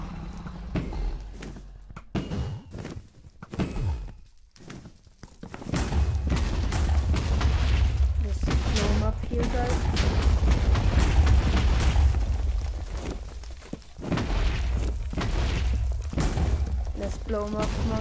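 Video game explosions blowing up an enemy, a dense run of booms and thuds rolling loud and continuous across the clip, mixed with excited speech and game sounds.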